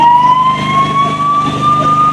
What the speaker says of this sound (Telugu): అది మనకి సైరన్, అది సైరన్ వినిపించింది